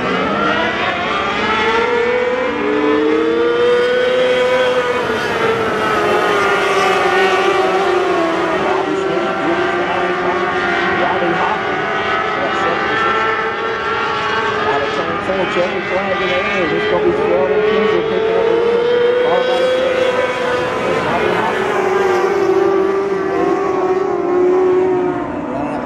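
FMSA mini sprint race cars run a heat at Bubba Raceway Park, engines wailing steadily and loudly as they pass through the field, with a race announcer talking over the continuous roar.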